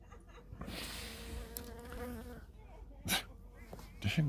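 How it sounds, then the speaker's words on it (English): A bee buzzes close to the microphone outdoors during a morning coffee, a wavering drone that swells and fades over a few seconds amid rustling and handling noise, with no clear talk. "Damn bee."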